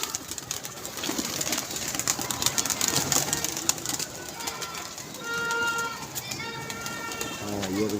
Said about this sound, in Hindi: एक ये भी कबूतर नया उतरा है